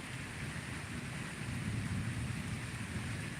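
A night thunderstorm by the sea, with steady hissing rain and a low rolling rumble of thunder, constant and fairly faint throughout, no voices.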